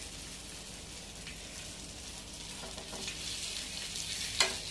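Fish frying in a pan, giving a continuous bright sizzle like light rain, with a few louder crackles and one sharp spatter near the end.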